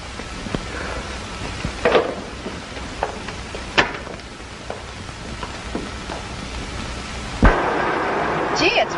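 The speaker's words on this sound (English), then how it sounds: "Gee, it's raining." Rain patters steadily in an old drama film scene while distant thunder rolls and a sharper crack breaks through near the end, with low murmuring beneath.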